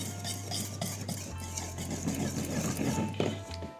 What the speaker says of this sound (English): You really need to mix them through just to make sure that everything